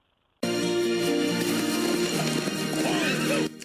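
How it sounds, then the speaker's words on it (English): A horse whinnies loudly and at length while hooves clip-clop beneath, the sound starting abruptly after a moment of silence and cutting off near the end. "Fortunately, there's a horse for her to ride home"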